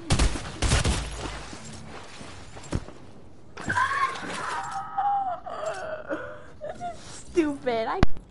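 Video game gunfire crackles in quick bursts of shots, mixed with excited talk and laughter from players close to the mic.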